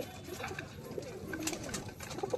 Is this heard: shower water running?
no